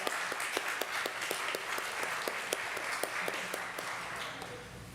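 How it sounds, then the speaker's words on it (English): A church congregation at a Sunday service gives a round of applause for its board members, steady clapping from many hands with a few sharper individual claps standing out. "Let's give them a round of applause."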